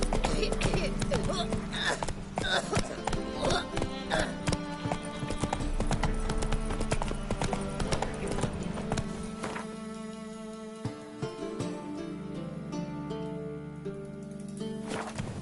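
Roach the horse galloping in The Witcher 3, fast rhythmic hoofbeats close and steady, then slowing toward the end, with game music underneath.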